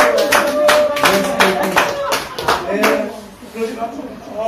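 An audience claps at a civil wedding ceremony, with a burst of brisk hand claps, close and lively, that thins out after a few seconds while a voice talks over it.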